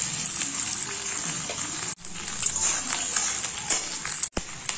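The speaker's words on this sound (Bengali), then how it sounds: "নারকেলটা লাল লাল করে ভেজে নেব।" Chopped coconut frying in mustard oil in a wok, a steady dense sizzle that runs throughout at close range with two brief dropouts, no talk over it.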